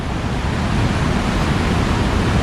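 Floodwater rushing through Pathar village at Kavalappara, Nilambur, where a landslide struck, running like a river; a steady, close broadband roar that holds unbroken throughout.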